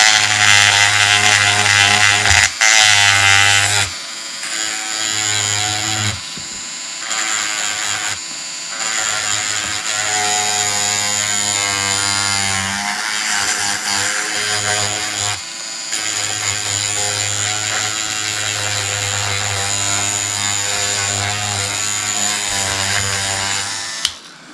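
A Proxxon PS13 detail sander whirs steadily and loudly on the wooden hull of a lapstrake boat, its motor tone holding nearly constant with a few brief pauses and shifts in pitch as it works.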